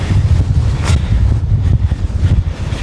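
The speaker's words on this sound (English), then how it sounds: "Ooh, it's windy up here." Loud, steady wind buffets the microphone at the top of a fire tower on a state park hike, with a low rumbling roar and gusty swells throughout, no voices.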